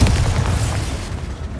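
A Bombarda blasting spell goes off in the Hogwarts Legacy video game, a loud booming explosion with a deep rumbling low end that stays heavy and dense before slowly easing off.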